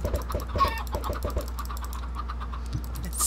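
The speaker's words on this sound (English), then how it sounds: "There's so many chickens." Chickens in a video game give a rapid run of short, repeated clucks that are close and fairly clear, then thin out to sparse calls over a low, steady background hum.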